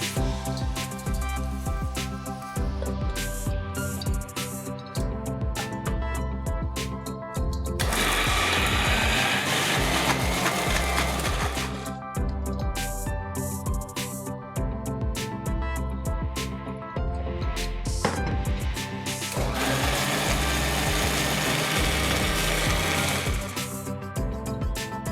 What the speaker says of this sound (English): Now let's cool them and grind it to a nice fine paste.